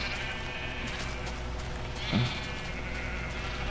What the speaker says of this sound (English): Look at the little pink sheep.